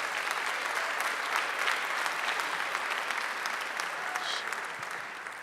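A school audience applauding and cheering graduating seniors, a dense, steady wash of clapping that keeps up for several seconds and fades slightly toward the end.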